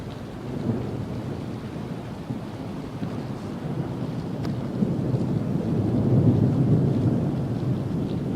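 Continuous monsoon rain with gusting wind rumbling against the microphone during a lightning storm, a low storm roar building slightly toward the end, no voices.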